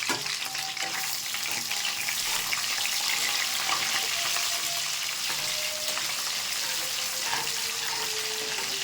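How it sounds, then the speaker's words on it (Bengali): Onion and whole spices fry in hot mustard oil, giving a steady, close, busy sizzle that holds level throughout with no talking. "তেলটা গরম হয়ে গেছে, গোটা মশলাটা দিয়ে দিচ্ছি। পেঁয়াজটা দিয়ে দিলাম।"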